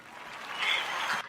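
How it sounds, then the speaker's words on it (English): A single person claps hands, a brief patter of soft, quick claps that builds slightly and stops abruptly, fairly faint and alone. "I'm about to give you an applaud right now"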